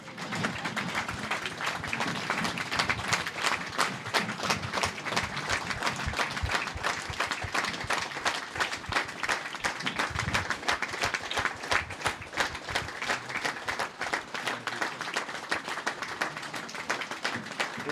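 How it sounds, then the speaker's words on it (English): Football fans at Guiseley AFC's ground stand and applaud at the edge of kickoff, a long, even wash of many hands clapping from a distance, sustained for the whole stretch without pause. "the fans stand for a moment's applause"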